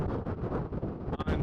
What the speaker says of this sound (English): It's windy as hell